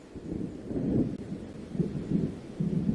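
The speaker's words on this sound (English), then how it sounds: "It seems there's a storm coming." Thunder from an approaching storm near the waterfront in the video game Alan Wake, a fairly soft, low rumbling that swells and rolls in several waves over a faint background wash.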